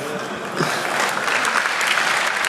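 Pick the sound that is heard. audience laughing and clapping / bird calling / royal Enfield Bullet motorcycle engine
audience laughing and clapping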